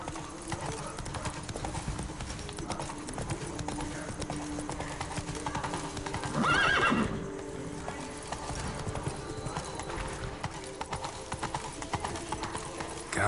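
Roach, the horse in the video game The Witcher 3, galloping in a steady rapid clip-clop of hooves that carries on throughout, with a brief whinny or snort partway through.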